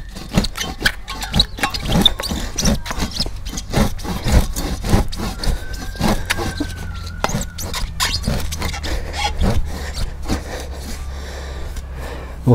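Close, rhythmic rasping strokes of a Rootslayer garden spade's metal blade sawing back and forth into wood, steady and repeated for the whole stretch.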